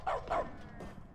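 A cartoonish dog in dog mode of the video game The Stanley Parable gives two quick, fairly faint yapping barks in a row, then a softer third sound, with no talking.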